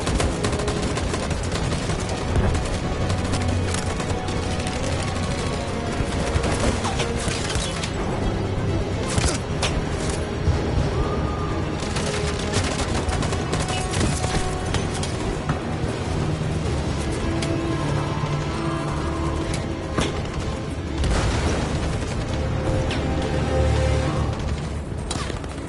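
Sustained gunfire volley from multiple weapons in Detroit: Become Human, dense loud bursts and rapid automatic fire continuing throughout with sharp crackling shots.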